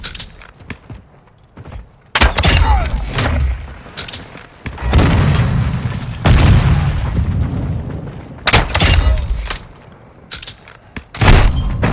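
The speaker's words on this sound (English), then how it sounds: "Missile ready for launch." Heavy booms and blasts from a video-game missile launch strike, with loud bursts recurring across the stretch amid rumbling gunfire-like impacts, no talk.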